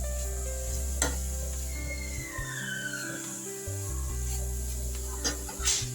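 Grated beetroot frying in a pan for a beetroot fry curry, a steady close sizzle with stirring and scraping of a spoon against the pan and a few soft clinks, no talking.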